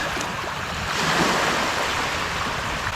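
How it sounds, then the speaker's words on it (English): Ocean waves wash steadily onto a beach at Port Barton, Palawan, a continuous broadband surf roar with a gentle swell in loudness midway and some wind across the microphone. "it's the sound of the waves"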